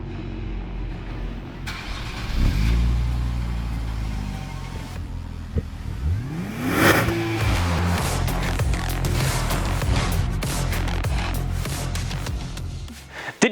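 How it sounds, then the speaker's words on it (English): A 2021 Nissan Z (400Z) with manual transmission, its engine starting and then revving in a sharp rising sweep that falls back, close up with a continuous rumble and no talk. "a spicy little rev of the engine there as well"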